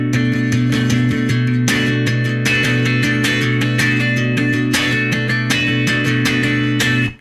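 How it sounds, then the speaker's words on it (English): Tight funk guitar chords strummed with a wide, full-width motion, a brisk even rhythm of crisp strokes played close and loud throughout. "If I now widen the distance of my strumming,"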